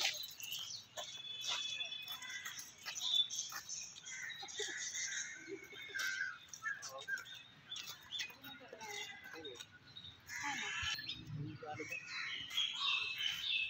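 A dense flock of birds chirps continuously in the trees around a school grounds, with overlapping, rapid, high tweets close by throughout and faint voices in the background.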